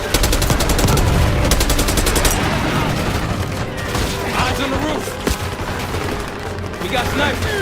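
Heavy gunfire in Call of Duty Black Ops 6 opens with a fast, loud burst of automatic fire, then breaks into scattered shots and impacts. Voices shout over the battle.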